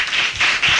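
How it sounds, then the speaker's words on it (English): A crowd applauds the life coaches at an etiquette event, a dense, steady wash of clapping that swells in waves and carries through the whole short moment without any talk. "Clap it up."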